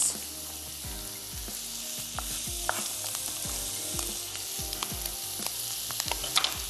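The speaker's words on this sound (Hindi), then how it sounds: "बीफ के साथ मैं वेजिटेबल्स ऐड कर देती हूँ ताकि वो भी स्टर फ्राई होना शुरू हो जाए" Beef with capsicum and carrots stir-fries in a hot pan, giving a constant bright sizzle broken by regular scraping thumps of a spoon moving the food around.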